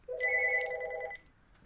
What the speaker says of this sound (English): Sorry everyone, our phone's ringing.